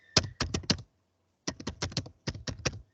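Quick bursts of clicking keys on a computer keyboard, three short runs of typing separated by pauses, close and clear with no talking.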